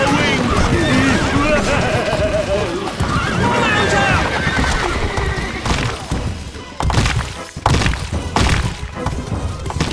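Horses neigh and whinny in the video game Stronghold during a castle siege, with galloping hoofbeats and thuds, loud and busy, under game voices speaking.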